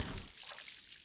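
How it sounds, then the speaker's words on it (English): Water poured onto a plant from a watering can in the game Wanderstop, a faint, brief splashing trickle with soft drips over about a second. "Can I water this again?"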